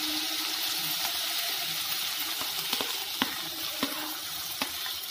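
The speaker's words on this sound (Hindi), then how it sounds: "बची हुई अरबी है उसको भी मैं फ्राई कर लूंगी" Taro (arbi) pieces fry in oil in a home kitchen with a steady, close, broadband sizzle, broken by a few sharp clicks of a utensil against the pan.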